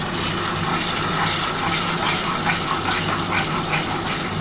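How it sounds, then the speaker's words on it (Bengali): Spiced water being poured into masala frying in a pan for a katla fish curry, a steady broad hiss and sizzle with liquid splashing, close and fairly loud throughout, with no talking. "সামান্য অল্প একটু জল দিয়ে দিচ্ছি, মশলার জলটাই দেবো বন্ধুরা।"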